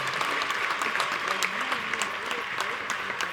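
An audience applauds a Tamil speaker at an all-party meeting, steady sustained clapping from a large crowd filling the whole moment with no talk over it.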